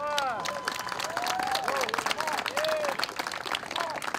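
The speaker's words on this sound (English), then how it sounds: "How about a round of applause for our Youth All-Stars?" A crowd claps steadily in dense, crackling applause at a youth boys baseball championship, with scattered whistles and cheers rising over it throughout.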